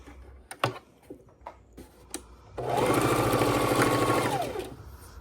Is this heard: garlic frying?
no